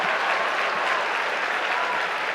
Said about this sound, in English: The crowd appreciates the effort.